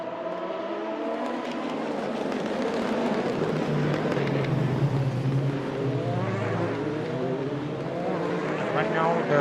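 Race cars lapping Fuji circuit in a sim racing video game, engines droning and shifting pitch under continuous race commentary.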